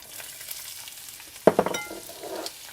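Onions dropped into a hot pan for braised chicken, a brief sharp sizzle burst over a low steady hiss that then settles back down.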